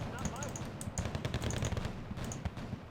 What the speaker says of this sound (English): Grenade launchers working away.